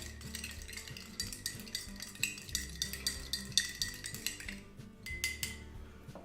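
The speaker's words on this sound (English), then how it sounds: "Stir the adobe material" Adobe soil sample stirred in water in a lab container, a rapid series of close, light clinks and scrapes of a stirring rod against glass, steady and rhythmic with no voices.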